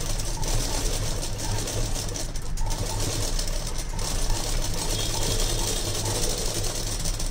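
A sewing machine stitches a saree about half an inch from the edge, running in a steady, loud, continuous mechanical whir with fast rhythmic needle chatter throughout, close by and without speech.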